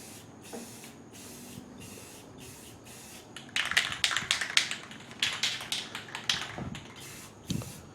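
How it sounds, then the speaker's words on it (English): Clear coat is sprayed onto the roof of a 2002–2006 Honda CR-V, heard as short repeated hissing bursts from a spray can or gun, getting louder and more frequent in the second half, with a few light taps. "he's spraying clear coat now on top"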